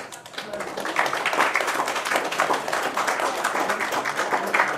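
Concert audience applause greeting a band at a birthday concert, sustained crowd clapping rising after a moment and holding loud and dense, with faint voices mixed in.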